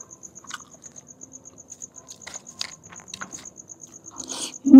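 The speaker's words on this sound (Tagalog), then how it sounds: "kuliglig lang yung naririnig ko dito" Steady, high-pitched cricket chirps pulse throughout in a quiet cemetery at night, with scattered small rustles and a brief voice near the end.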